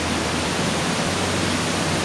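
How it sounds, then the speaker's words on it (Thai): Water of Kaeng Sopha waterfall rushes and crashes down over rocks in a loud, dense, unbroken roar, heard close and alone. "ตรงนี้นะครับคือสายน้ำไหล ที่พุ่งกระโจนมาจากด้านบน"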